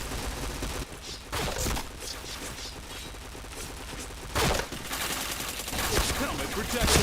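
Video game gunfire comes in rapid bursts and sharp volleys of shots, with an automated announcer voice calling out in between.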